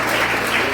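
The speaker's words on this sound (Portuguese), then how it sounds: "Pode aplaudir Jesus" A church congregation applauds during a service, a brief, dense, even burst of clapping that stays steady and fills the room.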